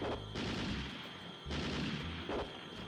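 Gunshots hit the player in the arcade game Elevator Action Returns, heard as three bursts of loud, rapid gunfire over a steady game background, each lasting under a second and spaced evenly apart.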